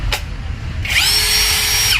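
A 21 V cordless brushless drill spins up after a brief click, settling into a loud, steady high-pitched whine that runs to the end.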